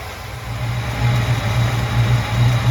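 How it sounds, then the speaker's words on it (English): An old 1995 G-20 auction van engine idles steadily with an even low rumble and hum, close and continuous, with no talking. "Well, I got the old auction van running."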